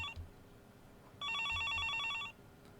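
A telephone rings in the Higurashi visual novel game, with a short clipped ring at the start, then one full electronic trill lasting about a second, clear and moderately loud with no talk.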